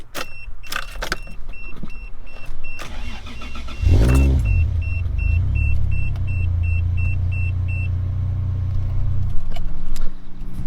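A Toyota Supra's 1JZ engine is started: a few clicks and a steady high beeping first, then the engine cranks and catches at about four seconds and settles into a loud, close, steady idle rumble.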